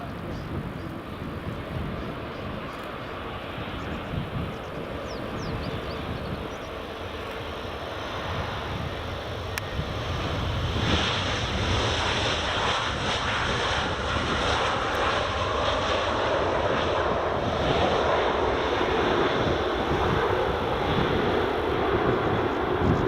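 Jet engine roar from a British Airways airliner on runway 24 at Edinburgh Airport, a steady broadband rumble that swells louder partway through, mixed with wind noise outdoors.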